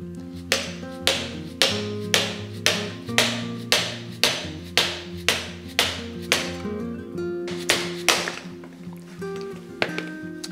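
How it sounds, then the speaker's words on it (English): A screwdriver is struck again and again to drive a star nut down inside a bike fork: about sixteen evenly spaced, sharp metallic taps, close and loud, over a steady tonal background. "So I just simply just place the screwdriver in the middle of the star nut and then we just hit"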